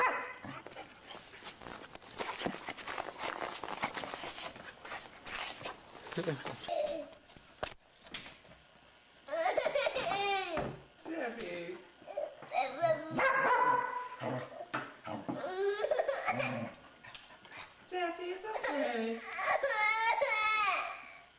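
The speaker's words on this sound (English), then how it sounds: "Doggy just barks loud." A dog barks loudly several times in quick bursts, close by, alongside whimpering, crying-like sounds and a steady crackling background, in a 1989 home recording.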